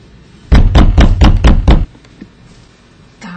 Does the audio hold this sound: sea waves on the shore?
no